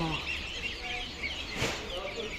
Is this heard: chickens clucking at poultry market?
yes